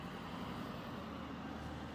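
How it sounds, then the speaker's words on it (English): A Ford Super Duty four-wheel-drive pickup truck driving by, a low, steady engine rumble heard faintly at a distance, with no voices. "Tony with his big time 4-wheel drive Super Duty"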